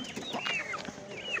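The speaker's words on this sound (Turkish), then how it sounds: "Burada köy horozları var değil mi bir de?" Village roosters and hens at a chicken market in Gördes give short clucks and squawks, fairly close but modest in level over a busy market background.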